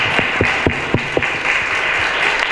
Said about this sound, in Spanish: Bueno, fuerte aplauso.